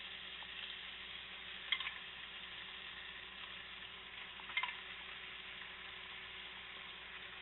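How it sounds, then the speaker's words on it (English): Diced tomatoes hit a hot frying pan and sizzle steadily on their own, a dense continuous fry with a couple of brief clatters of utensil against pan. "we're going to add my tomatoes, which are just diced tomatoes"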